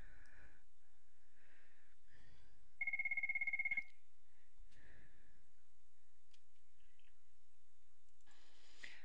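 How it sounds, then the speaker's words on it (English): A telephone rings once in a quiet room, a short electronic trill lasting about a second amid soft breathing and faint movement. "phone rang."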